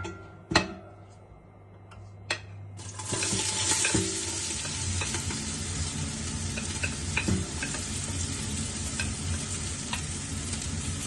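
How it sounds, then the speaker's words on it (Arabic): Onions go into hot oil for chicken kabsa: a couple of sharp knocks, then a loud, continuous close sizzle with scraping stirring strokes running through it, with no talk. "هاي مثل ما قلت لكم راح هسه احمس البصل"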